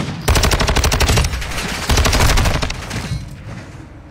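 Light machine gun fire in a video game: long sustained bursts of rapid automatic shots, loud and close, with a brief break near the middle before firing resumes and tails off.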